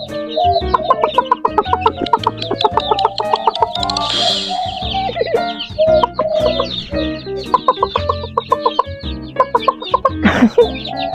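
Several chickens on a farm cluck busily and continuously, close by, with a brief louder squawk near the end and faint chirps in the background.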